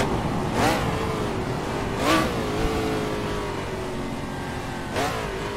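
Race car in the Assetto Corsa racing game, an AC Legends prototype, engine droning steadily at high revs with three sharp rising revving surges as it accelerates out of corners, loud and continuous with no talking.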